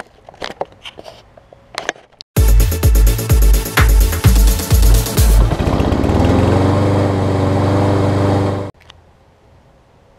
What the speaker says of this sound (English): It is a 20-inch Yard Machines basic push mower.